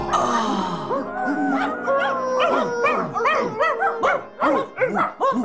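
Cartoon dogs in an animal shelter, a chorus of overlapping barks, yips and drawn-out howls, close and lively, building into rapid repeated barking with no talk over it.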